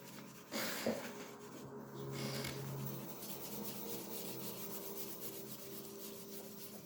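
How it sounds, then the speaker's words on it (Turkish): Sandpaper scrubs toilet limescale stains with a steady, close rasping against a hard porcelain surface, a continuous scratchy rubbing. "Zımpara kağıdınızı birkaç parçaya ayırıp böyle yavaş yavaş kullanarak daha iyi temizlersiniz"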